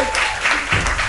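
A short burst of loud, close clapping comes from a small audience at a live poetry night at the Five Spot.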